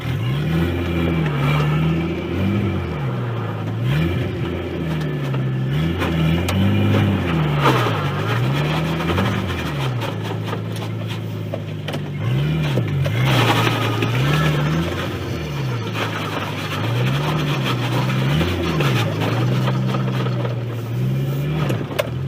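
A Nissan 240SX S13 with a swapped RB20DET engine drives on its first test run, the engine note rising and falling repeatedly through gear changes, loud and close from inside the car with no talking.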